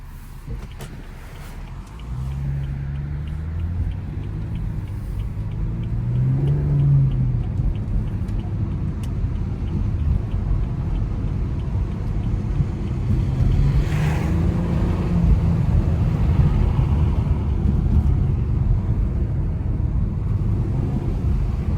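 A 400 hp BMW 340i xDrive drives along snowy roads, its engine and tyre rumble a steady low drone heard from inside the cabin, rising slightly in intensity partway through, with road noise constant throughout.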